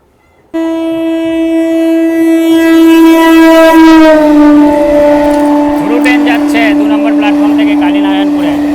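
A Lalgola train runs through a local station without stopping and sounds a long, loud horn blast that starts abruptly, holds, then sags in pitch as it passes, with rumbling and rattling beneath.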